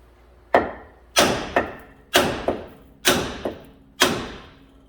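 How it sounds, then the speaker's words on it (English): Five heavy metallic hammer blows strike a ball joint press on a 2010 Jeep Wrangler front axle about a second apart, several followed by a lighter rebound tap, each ringing briefly before fading. "I'm going to give it a hit right here with a hammer"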